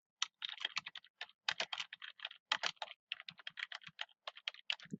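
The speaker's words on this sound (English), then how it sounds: "I can just go ahead and start typing the rest of the paper" Rapid bursts of keystrokes on a computer keyboard while writing a paper in a word processor, clicking in quick irregular clusters with brief pauses, close and clear, no talking.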